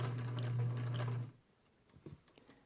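Singer sewing machine with a narrow hemmer attachment stitching a folded fabric hem: a steady, even mechanical whir for just over a second, then it stops, leaving faint clicks and handling noise.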